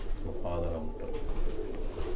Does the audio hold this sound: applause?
no